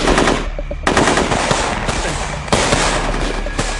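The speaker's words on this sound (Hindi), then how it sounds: "मेजर अवस्थी की टीम काउंटर फायरिंग कर रही है" Loud, close bursts of machine gun fire from a 2019 war film about a surgical strike, rapid automatic shots crackling in sharp clusters throughout without speech.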